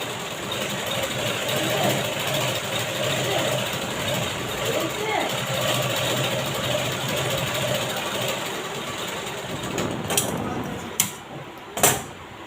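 A sewing machine stitching a blouse sleeve runs in a steady, continuous mechanical whir throughout, close and even, with a couple of sharp clicks near the end.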